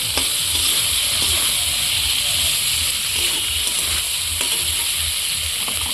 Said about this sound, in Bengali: সজনের ডাঁটাগুলো দিয়ে দেবো, একটু কষিয়ে নেব মশলাটাকে